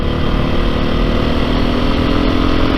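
A 2022 Beta 430 RR-S off-road motorcycle engine droning loud and steady while being ridden, a continuous close roar mixed with wind rush and no breaks.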